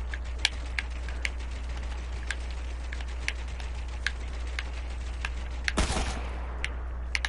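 Distant gunfire crackles in a Fortnite solo match as scattered sharp shots over a steady low hum. A louder burst of fire sounds near the end.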